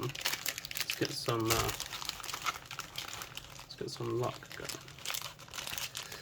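Crinkly riffling of One Piece trading cards being shuffled, two distinct bursts of fluttering separated by a pause, with someone talking over it.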